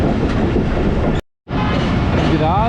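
The Awam Express passenger train runs at speed with a loud, steady roar and rattle of wheels on track, broken by a sudden brief dropout before the rumble resumes.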